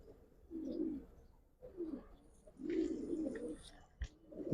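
Giribaz pigeons cooing nearby in low, throaty rolling bursts, three or four calls with short pauses, plus a faint thump near the end.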